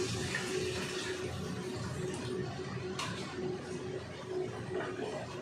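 Water splashes steadily into a pan of fried spice paste for a fish curry, a continuous hissing pour with a sharper burst midway and no talk.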